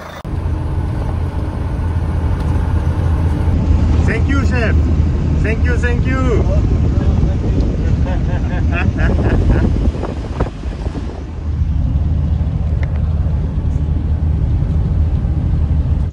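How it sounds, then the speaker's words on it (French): Riding in the back of a truck used as a taxi in Namibia, with heavy wind buffeting and a constant low rumble of the moving vehicle throughout, while voices briefly speak over the noise. "J'ai trouvé le taxi, c'est un camion."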